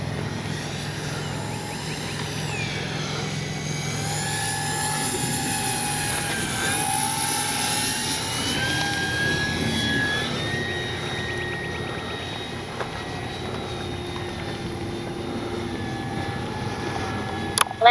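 A FlightLine 1600mm P-51D Mustang RC model plane in flight, its electric motor whining steadily with rising and falling pitch as it passes, moderately distant, no talk.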